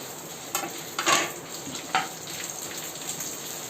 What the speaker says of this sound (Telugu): ఇప్పుడు మనం ఎండుమిర్చిని కూడా వేయించుకోవాలండి.